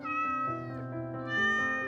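A single long, wavering meow from a nearby cat, loud and continuous, rising in pitch toward the end.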